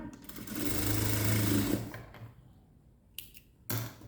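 A sewing machine stitches fabric during straight stitching work: one sustained close run of rapid mechanical whirring, then a pause and two brief short bursts, with no talk.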